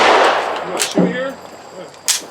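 Smith & Wesson 659 9mm pistol fired at an outdoor range: two sharp, loud reports about a second apart, with brief talk between them.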